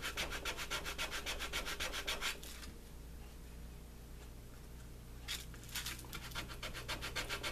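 Sandpaper rubbed quickly back and forth on a leather belt slide, a rhythmic scratchy rasp that pauses in the middle and then picks up again, soft and close.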